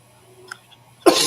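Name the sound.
coughing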